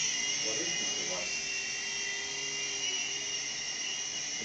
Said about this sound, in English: It's a Apache helicopter.